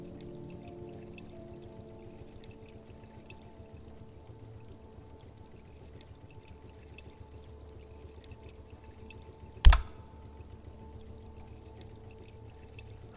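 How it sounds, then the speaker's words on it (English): In the game Dahlia View, a pump drains water from a flooded basement with a steady, rushing, pouring flow and a low mechanical hum, broken once by a single sharp click. "Pump is set to clear the basement of water."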